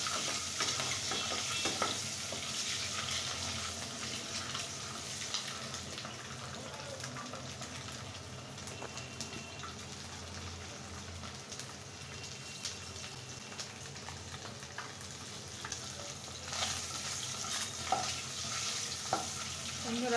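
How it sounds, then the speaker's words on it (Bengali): Eggs fry in a pan, cooked until reddish for a cauliflower, potato and duck egg curry, a continuous close sizzle with scraping and stirring noises running the whole time, with no one talking. "এখন খুব সুন্দর করে লাল লাল করে ডিমগুলোকে ফ্রাই করে নেব।"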